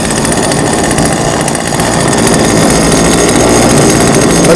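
An old chainsaw engine running on its own, a loud, close, continuous two-stroke buzz with a steady rough drone throughout.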